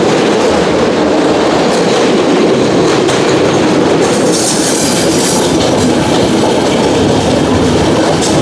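A passenger train runs on the Vizag to Araku hill railway with a loud, steady rumble and rhythmic wheel clatter. Brief high wheel squeals come in around the middle.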